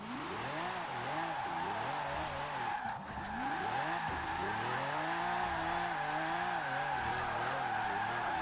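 A Lamborghini drifts in the video game Forza Horizon 4, its engine revving up and down in repeated sweeps while the tyres squeal continuously, loud and sustained with no talk.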